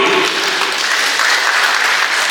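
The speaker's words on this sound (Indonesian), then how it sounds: "Tepuk tangan dulu." A crowd at the inauguration ceremony of a Hutagaol clan association's new board breaks into loud, dense applause, a thick unbroken roar of many clapping hands close by for the whole moment.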